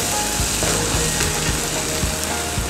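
Onions sauté in a pan for chicken curry, a loud, dense sizzle close up with scraping stirring strokes running through it, and no talking.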